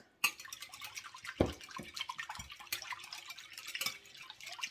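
Whole milk poured into a beaten-egg mixture for a ham and cheese breakfast casserole, a soft liquid splashing and dribbling that runs for several seconds with a few sharper drips, close and fairly quiet, no talking.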